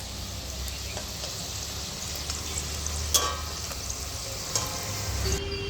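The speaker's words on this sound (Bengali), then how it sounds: "একবার ভেজে নিচ্ছি হালকা করে তারপরে তুলে রাখছি তার কারণ হচ্ছে যে আমি দ্বিতীয়বারে আবার ভেজে নিব" Nakshi pitha fry in hot oil with a steady, even sizzle at close range. A few faint clinks and stirring knocks sound over the frying, and no one speaks.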